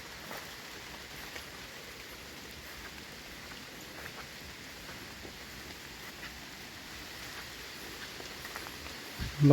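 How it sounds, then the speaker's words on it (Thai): Rain falling outdoors in the Laotian countryside, a soft, even patter held steady throughout, fairly faint, with a brief louder knock at the very end. "ฝนก็ตกมาอีก"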